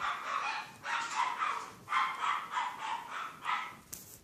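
A dog gives a string of about six or seven sharp barks at a steady pace, each a short, loud burst with brief gaps between them, over a quiet background.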